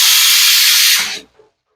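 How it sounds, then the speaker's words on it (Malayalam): A pressure cooker cooking dal with ginger, green chillies, garlic and shallots lets out a loud, steady steam whistle that hisses for about a second before cutting off abruptly. "അവൻ അവിടെ ഇരുന്ന് പരിപ്പ് ഒന്ന് രണ്ട് വിസിലും കൂടെ വരട്ടെ"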